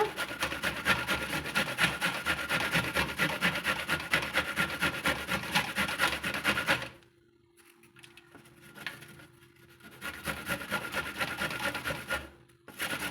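Dried coconut scraped by hand against a grater, a dense, steady rasping and rubbing that runs continuously for several seconds, stops, then resumes more faintly near the end.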